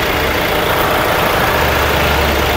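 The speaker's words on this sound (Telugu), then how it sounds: "ఇంజన్ పొజిషన్ చూడొచ్చు, ఇంజన్ ఆల్రెడీ స్టార్టింగ్లో ఉంది," A 2017 Hyundai Creta 1.4 S+ diesel engine idles with a steady, close, unbroken rumble and hiss.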